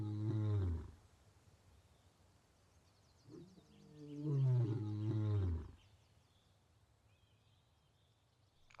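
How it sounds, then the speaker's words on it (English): Big cats roar to mark their territory, two deep, loud, rumbling roars, one brief and one long and drawn out, separated by quiet with faint high chirps in the background. "marking their territory with a resounding roar, louder and more synchronized than any solitary roar before."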